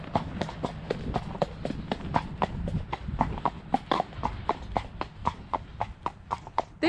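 A horse's hooves clip-clop in a quick, steady rhythm, close and fairly loud, with a few heavier strikes along the way. No one speaks over the hoofbeats.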